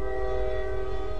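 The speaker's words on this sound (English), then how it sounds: "that should be a jailbreak train horn" A steady, sustained Jailbreak train horn from a Roblox train game, one loud unbroken tonal blast holding at even strength for its whole length, with no talking.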